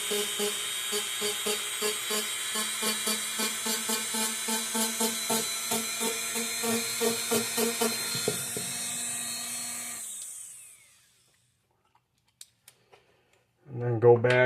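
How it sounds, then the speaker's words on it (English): Rotary tool with a sanding bit grinding a circuit board, a high whining buzz pulsing in regular strokes for about ten seconds before stopping, followed by faint clicks and a brief voice at the end. "And then go back to the sanding bit."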